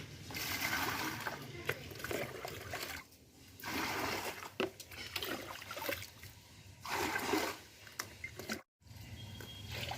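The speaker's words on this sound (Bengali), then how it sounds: "আমার মা এখন জল ভরছে সকালবেলায়।" Water pours and trickles into containers in the morning, with splashing and dribbling in uneven bursts separated by brief pauses, moderately close.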